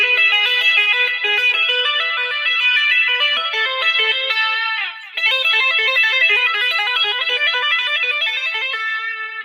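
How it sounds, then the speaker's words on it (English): Clean electric guitar lead with chorus, reverb and delay and no distortion, playing a continuous melodic line of bright sustained notes with one brief dip midway, loud and alone. "There's no distortion, just a little chorus and maybe a little chorus, and there's a little reverb and delay in there."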